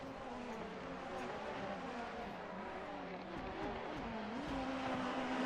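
Formula-style race cars in the Assetto Corsa racing game run a championship race at Motegi, a continuous loud engine drone with shifting revs and a steady rising whine, no talk.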